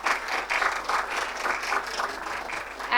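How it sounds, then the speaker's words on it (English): Audience applause following a panel session at a conservation planning event, a steady broadband wash of many hands clapping that holds evenly for the full three seconds at moderate distance. "Let's have a huge round of applause for the wonderful session that we just had."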